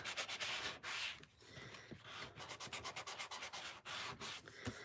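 Rapid back-and-forth sanding strokes rasp across a slick surface, roughening it for glue and paper, in uneven bursts, close and steady, with brief pauses between runs.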